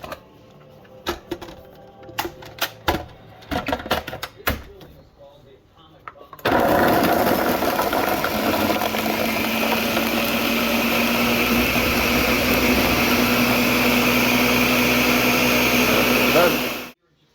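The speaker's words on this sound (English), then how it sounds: "got the Ninja blender" After several seconds of clattering and tapping, a Ninja blender roars on loudly mincing food and runs steadily for about ten seconds before cutting off.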